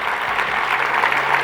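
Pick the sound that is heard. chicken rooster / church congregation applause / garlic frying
church congregation applause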